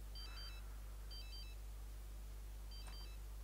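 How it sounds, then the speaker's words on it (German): Mobile phone ringing in The Sims 3, a repeating electronic ringtone in three short bursts over a steady low hum, fairly faint and with no voices. "da klingelt auch die ganze Zeit bei irgendjemand von unserem Sims Handy"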